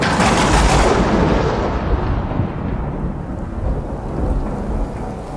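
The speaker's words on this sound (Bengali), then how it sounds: "সাথে সাথেই শুরু হলো প্রচণ্ড ঝড়, তার সাথে প্রবল বৃষ্টি" Loud rumbling thunder over the steady roar of heavy rain, slowly fading as the storm continues.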